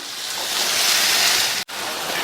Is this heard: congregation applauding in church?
no